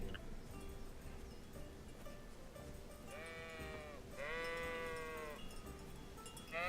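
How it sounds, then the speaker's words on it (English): Two drawn-out sheep bleats in the video game Kingdom Come: Deliverance sound one after another over a low background rumble, moderately near. "Sheepies!"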